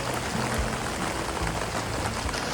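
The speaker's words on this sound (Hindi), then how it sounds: "बारिश होने लगी" Rain falling at a campsite in Japan, a steady even hiss of drops throughout the short stretch with no voices.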